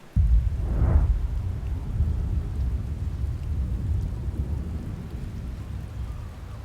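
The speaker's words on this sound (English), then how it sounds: "There's the storms." Thunderstorm with steady rain in the video game Outer Wilds, opening with a low rumble of thunder that fades into continuous loud rain noise.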